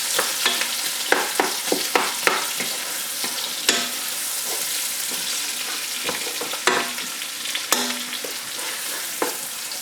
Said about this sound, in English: So I'm going to stir it